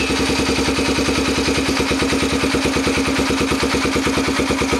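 A Yamaha TTR125 motorcycle engine running with the clutch in and first gear engaged, a loud, close, steady rhythmic thumping idle with a mechanical clatter, alone and unchanging throughout.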